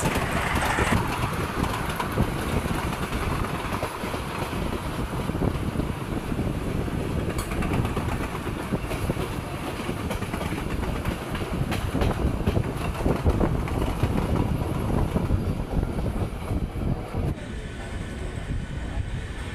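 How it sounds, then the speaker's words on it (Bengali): Kalka–Howrah Netaji Express train in motion, a steady loud rumble of wheels and carriage noise with wind buffeting the microphone throughout, no speech. "কালকা হাওড়া নেতাজি এক্সপ্রেস।"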